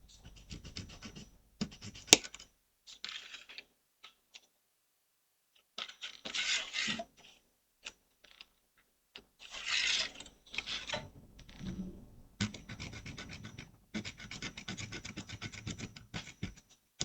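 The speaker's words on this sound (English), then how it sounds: "Can you hear the sawing? Does the saw sound come through?" A small hand saw rasps through a plastic model kit part in short, intermittent scratchy strokes separated by pauses, close to the microphone with no talking.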